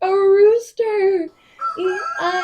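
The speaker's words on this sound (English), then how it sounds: "And on his farm he had a rooster." A rooster's cock-a-doodle-doo crows in a children's farm-animal song, two loud rising-and-falling calls followed by two more after a short gap, clear and close with no talking over it.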